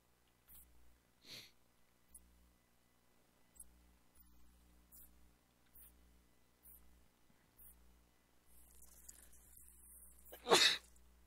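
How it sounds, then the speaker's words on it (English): A person playing Among Us sneezes once near the end, a sudden close burst after a stretch of faint sniffs and soft rhythmic background ticking, with no speech. "I sneezed again."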